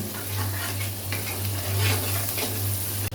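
Dried fish fries in oil for a jackfruit curry with shrimp, a constant close sizzle and crackle with light stirring noises running throughout.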